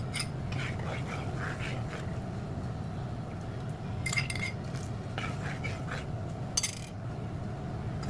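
A utensil stirs hot water mixture in a pan while making buko pandan gulaman, with scattered metallic scrapes and clinks over a steady low background, with a few sharper taps near the end.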